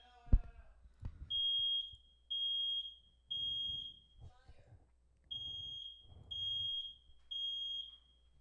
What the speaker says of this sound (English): The fire alarm went off again.